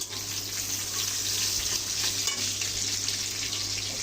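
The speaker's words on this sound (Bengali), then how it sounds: "পেঁয়াজ কুচিকে একটু লাল করে ভেজে নেব। দিচ্ছি দুটো লাল মরিচ, দিয়ে দিচ্ছি দুটো তেজপাতা" Chopped onion frying in hot oil with two red chillies and two bay leaves, a steady close sizzle with faint crackles and a low background hum.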